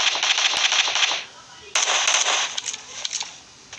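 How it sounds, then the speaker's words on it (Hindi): Rapid bursts of gunfire in PUBG Mobile on the Livik map crackle in two loud volleys with a short pause between, close and harsh, while a voice talks underneath. "किधर है, कहाँ कहाँ से गोली चल रही है"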